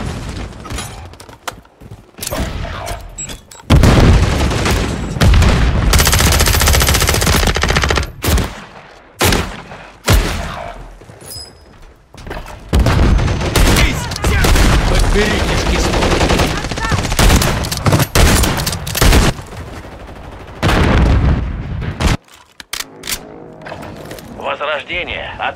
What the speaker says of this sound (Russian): Кидаю Семтекс. Кидаю оглушающий.